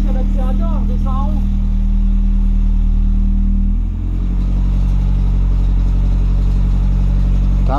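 A BMW 318is fitted with a turbo and running without a tune rumbles steadily and close by during a road test, with a faint metallic rattle. The engine note shifts partway through.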